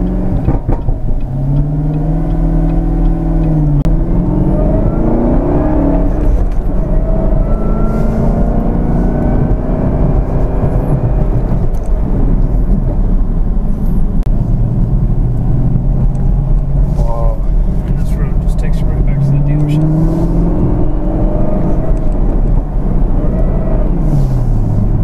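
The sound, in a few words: sports car engine revving and accelerating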